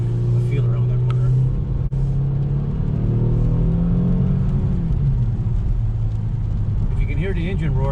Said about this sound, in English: Hear the engine roar, it's pretty nice